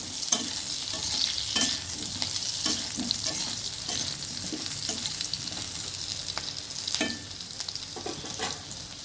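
Potatoes fry with black cumin and green chili in hot oil, a steady close sizzle broken by regular scraping stirs of a spatula, with no talking.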